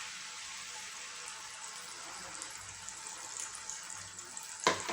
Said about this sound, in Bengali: এবার আমি যে পেস্টটা তৈরি করেছিলাম সেই গ্রেভিটাকে আমি এখানে ঢেলে দিলাম